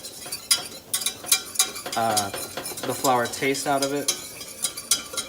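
Flour is stirred in a pan to cook a roux for fisherman's pie, with a utensil scraping and tapping rhythmically close by under intermittent talk.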